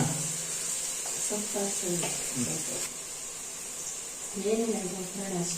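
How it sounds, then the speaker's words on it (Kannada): Steady sizzle of greens being tempered in hot oil, with people talking nearby over the frying. "ಇವಾಗ ಸೊಪ್ಪೆಲ್ಲ ಒಗ್ಗರಣೆ ಮಾಡ್ತಾ ಇದ್ದಾರೆ"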